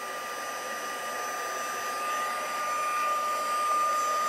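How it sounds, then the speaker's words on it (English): An embossing heat tool blows hot air, giving a steady, close whirring blower hum with a thin high whine that rises slightly in loudness as the tool is moved around. "keep moving your embossing tool, your heat tool."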